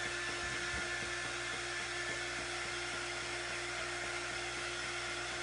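A craft heat tool blows steadily over a surface to dry it, a constant whirring hum with a droning tonal whine, unbroken from start to finish at moderate level, with no talking.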